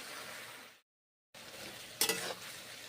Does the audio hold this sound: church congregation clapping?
no